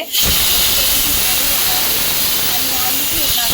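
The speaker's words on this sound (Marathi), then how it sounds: "ह्या भाजीला तडका देत आहेत तर त्यांनी काय केलेलं आहे पळीमध्ये तेल टाकलेलं आहे त्याच्यामध्ये लसूण टाकलेलं आहे" Hot oil with garlic, mustard seeds and asafoetida hits a cooked vegetable dish and sizzles in a loud, steady hiss that begins abruptly and carries on without a break.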